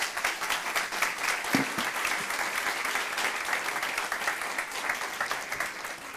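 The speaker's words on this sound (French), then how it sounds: "Merci, on les applaudit." Audience applause at an open source conference's opening plenary session: sustained, dense clapping from a crowd, steady and moderately distant, with no voices over it.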